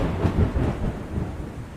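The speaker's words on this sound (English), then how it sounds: "we hear the sound of lightning after some time" A low rolling thunder rumble from lightning swells and fades over a couple of seconds, heard alone.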